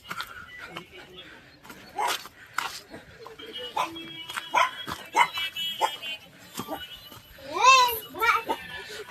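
A puppy on the Shivagange hill trek gives several sharp, close barks and yips, mixed with people talking nearby.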